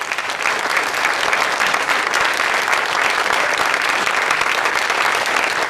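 Sustained audience applause fills the hall, dense and steady clapping from a large seated crowd at a speech event, continuous and fairly loud throughout with no talking over it.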